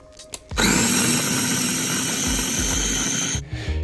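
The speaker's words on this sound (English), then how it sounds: "Then pop them in a blender, skins and all, and ensure they're completely mashed to an overall soft pulp." A blender whirs loudly and steadily for about three seconds, pureeing halved Davidson plums with their skins on, then cuts off abruptly.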